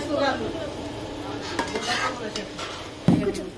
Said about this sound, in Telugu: దాని తర్వాత బాగా కలుపుకోండి.